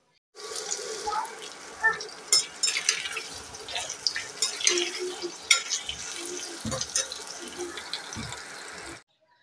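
Soybeans boiling in water on a kitchen stove give a steady bubbling, crackling hiss with irregular pops and clinks throughout, close and fairly loud, with faint talk in the background.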